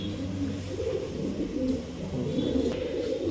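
Pigeons of a Madras high-flying breed coo in low, throaty murmurs, several birds close together in a steady overlapping chorus.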